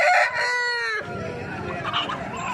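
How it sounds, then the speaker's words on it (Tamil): A rooster crows loudly and close by at a rural poultry and goat market in Kunnathur near Gobichettipalayam, one strained call giving way to busy market noise. "இங்கே வந்து புறாங்கூட இருக்குது, கோழி எல்லாமே இருக்குது, சேவல் இருக்குது."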